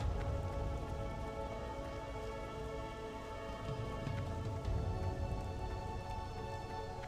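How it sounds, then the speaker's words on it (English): Rain falls over Darnassus in World of Warcraft, a dense, steady patter of drops with a low rumbling undertone, continuous and close, with no speech. "First time in Darnassus and it's raining"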